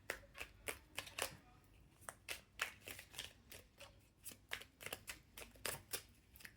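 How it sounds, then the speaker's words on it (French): Tarot cards are shuffled by hand in a rapid, irregular series of soft riffling snaps and taps, faint and close with no one talking. "Allez, je sélectionne une carte."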